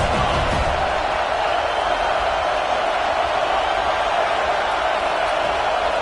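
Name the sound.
stadium crowd noise in College Football 26 video game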